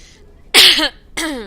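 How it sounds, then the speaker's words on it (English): Two short coughs, close and fairly loud, separated by a brief pause in an otherwise quiet room. "Sorry for the cough."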